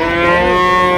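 A Holstein Friesian dairy cow at a cattle market lets out one long, loud, close moo that fills the whole second, its low voiced tone steady and unbroken with no talk over it.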